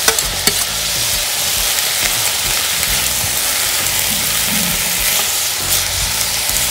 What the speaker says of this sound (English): Just stir this up now. Mix up everything together.